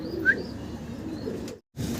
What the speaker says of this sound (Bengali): ইয়াং একটা কবুতর